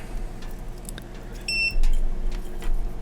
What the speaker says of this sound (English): And if you get a beep, if something's grounded,